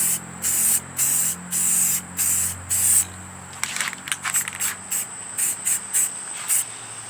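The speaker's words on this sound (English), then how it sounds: "So we're going to go ahead and do our same method that we've been doing and put another coat on." Repeated hissing bursts of an aerosol spray paint can coating a brake light lens, short regular pulses at first, then quicker uneven spurts, close and fairly loud.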